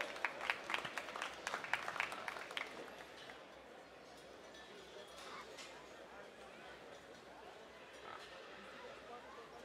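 Audience applause for young exhibitors at a junior 4-H and FFA gilt show, a crackling burst of clapping in an indoor show ring that fades after a few seconds as someone talks over a public address system.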